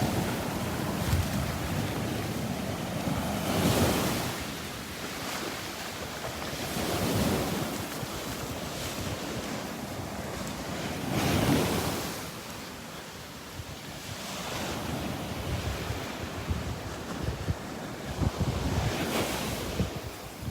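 Gulf surf at Delnor-Wiggins beach breaks and washes ashore in repeated swells, with steady wind buffeting the microphone throughout and no voices.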